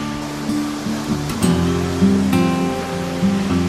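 Steady roar of Aw-Asen Falls in Ilocos Sur, the highest waterfall in the region, a dense continuous rush of falling water heard up close, with tonal hum and faint background sounds layered over it.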